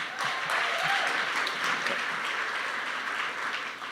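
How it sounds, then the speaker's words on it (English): Audience at a WAVE fundraiser gives a sustained round of applause, dense and steady clapping filling the room from start to finish. "So give all of yourselves a big round of applause"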